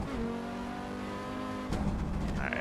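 Audi Sport Quattro S1 engine in a Pikes Peak racing sim, a steady droning rev that drops and roughens partway through as it downshifts, loud and close with no talking.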